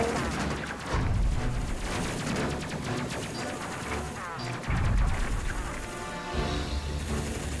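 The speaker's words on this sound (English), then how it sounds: "Okay, Lofi focus, fire." Spaceship weapons fire in the space simulation game Space Crew, a loud, dense run of blasts and crashing impacts with heavy low booms near the start, middle and end, continuous for several seconds.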